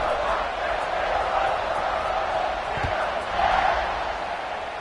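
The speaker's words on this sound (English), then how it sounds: "this crowd is buzzing after that last score" A college football video game crowd, Baylor versus Houston, keeps up a steady loud roar after a score, with a broadcast commentator talking over it.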